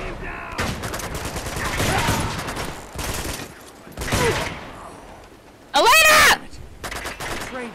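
Sniper gunfire in the action game Uncharted 2, heard as several bursts of shots and thuds across the scene, with one very loud, sharp shot late on, mixed with game effects and a voice speaking.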